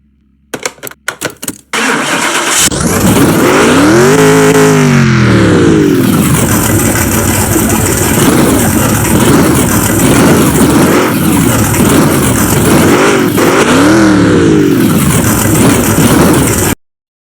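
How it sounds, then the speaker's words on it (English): A HEMI-powered Corvette C3 fires up after a few stuttering clicks, then settles into a loud, lumpy idle broken by two deep, swelling revs, heard up close with no voices. "That is exactly how I want my, what is this, Corvette C3 to sound."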